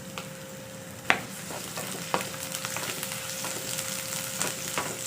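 Garlic sizzles in hot cooking oil for pork adobo, a steady crackling fry punctuated by occasional sharp stirring clicks and scrapes, with no voices.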